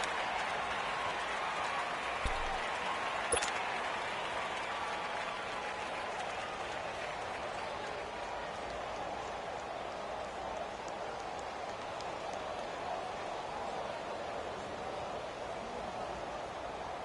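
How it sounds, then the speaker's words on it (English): A stadium crowd in the Madden football video game applauds and cheers in a steady, dense wash of clapping, moderately loud and unbroken throughout, with faint commentary in the background. "And the crowd on its feet, and understandably so."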